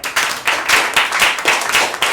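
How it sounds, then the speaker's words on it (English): An improv jam audience clapping, a quick burst of fairly loud, uneven applause lasting a couple of seconds with no talking. "clap if you've played improv before"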